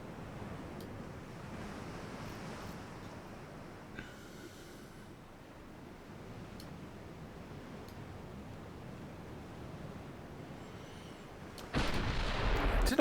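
Naval gunfire in a WWII-era naval strategy game with a Greek campaign and a Japanese light cruiser: a low, steady rumble of distant guns and sea, then a sudden loud, sustained blast near the end.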